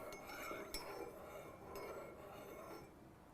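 A spoon stirs honey into tea in a cup, making faint, soft clinks against the china over a quiet background, with a couple of sharper taps.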